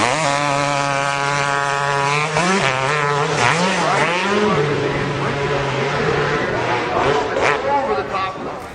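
A 2001 Honda CR 250 two-stroke dirt bike is ridden with a loud, close, buzzing engine that wavers and rises through rapid revs and gear changes, then fades slightly at the end.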